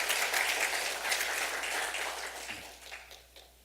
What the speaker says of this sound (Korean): 이때도 한번 박수 한번 치면 좋을 것 같습니다.